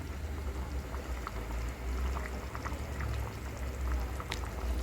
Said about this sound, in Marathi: एक उकळी येऊ द्या